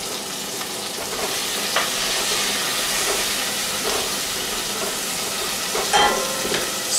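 Garlic sizzles and fries in a hot pan for a fish tagine, a steady bright crackle with a few louder spits and pops throughout, close and alone with no voices.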